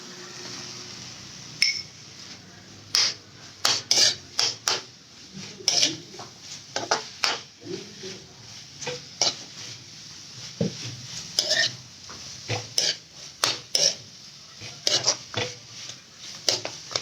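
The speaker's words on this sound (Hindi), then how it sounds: "अब इसमें हम डालेंगे कॉमन बटर मशरूम्स" Button mushrooms tipped into a pan of crunchy vegetables and stirred, giving repeated sharp clinks and scrapes of a utensil against the pan with quieter rustling between, close and fairly steady throughout.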